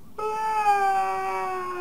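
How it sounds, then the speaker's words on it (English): A cartoonish cat meows in the Halloween video game Costume Quest, one drawn-out, tonal call lasting well over a second, clear and close with no talk over it. "Oh, it's a kitty."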